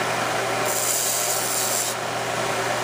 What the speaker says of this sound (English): We can start by sanding them flush